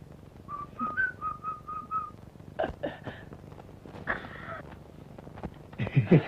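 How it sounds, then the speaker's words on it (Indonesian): Several people whistle in a scene from a drama film: a run of short, repeated whistled notes, then scattered voices and rustling. "Kok jadi banyak orang yang siul?"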